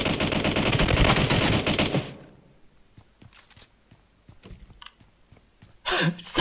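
Gunfire in the shooter game PUBG opens with a loud, dense automatic burst lasting about two seconds. Scattered clicks and small taps follow, then another loud burst at the very end.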